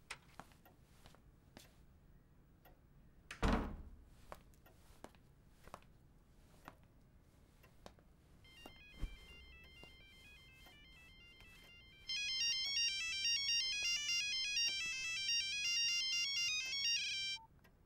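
A mobile phone forgotten at a friend's house rings unanswered, a bright melodic ringtone looping steadily for several seconds after a quiet stretch marked by scattered clicks and a thud.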